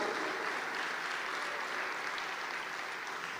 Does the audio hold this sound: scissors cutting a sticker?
no